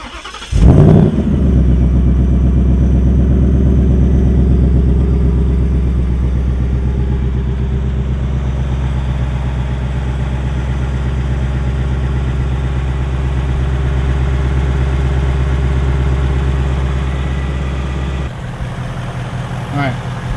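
A 2019 Ford Mustang GT engine idles close by with a steady, deep rumble that holds even for most of the clip, then drops off suddenly near the end.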